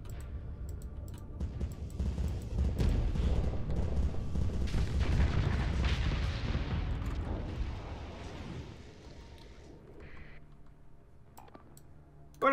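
A beam weapon fires in the space combat game Starsector, a dense, loud rumbling roar that holds steadily for about eight seconds, then thins and fades into quieter clicks and faint tones.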